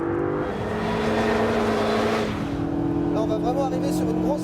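A Renault Mégane RS Trophy-R brakes hard from high speed on a track, its loud engine note dropping and winding down through downshifts, with wind rush and a brief squeal near the end.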